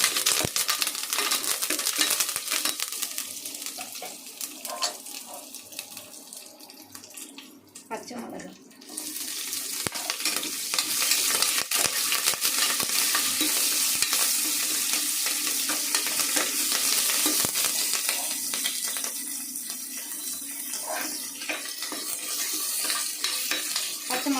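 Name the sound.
onion and tomato sautéing for chicken biryani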